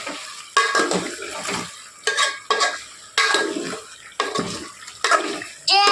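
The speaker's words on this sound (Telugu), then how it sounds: "ఇప్పుడు మటన్ కూడా ఒకసారి కలిపేసుకొని" Mutton curry in a pot is stirred in repeated bursts, each a wet scraping slosh of ladle through thick gravy, close and fairly loud with short pauses between strokes.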